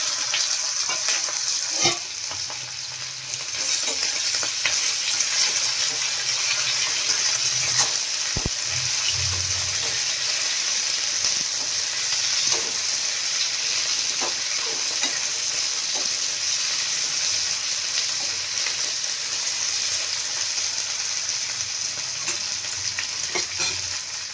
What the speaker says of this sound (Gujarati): રાઈને એકદમ ફૂટવા દેશું હવે આપણે એમાં ભીંડો એડ કરી દઈશું